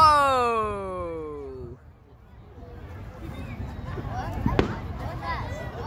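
A descending whistling tone fades out, then a crackle of Fourth of July firework bursts and pops follows, with one sharp bang and voices murmuring in the background.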